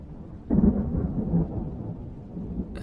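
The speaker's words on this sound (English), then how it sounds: "Hey, it's just thunder." Low rolling thunder from a thunderstorm, a deep rumble swelling suddenly then fading slowly, fairly distant and steady, with no talk.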